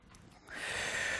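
A single sharp inhale during a Swiss ball strength workout, a short breathy intake swelling into a sustained airy rush up close, with no speech.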